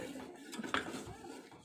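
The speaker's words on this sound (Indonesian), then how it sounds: "Sambil kita aduk-aduk seperti ini." Batter for kue nona manis being stirred in a pot on a stovetop, making faint, soft scraping and light clinks of a utensil against the pot, with a sharper knock at the very end.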